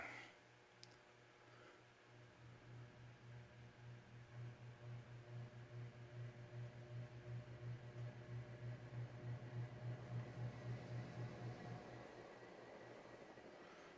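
A low, steady ceiling fan motor hum from an Emerson CF-381W, with a faint pulsing rhythm, quiet and continuous in an otherwise still bedroom.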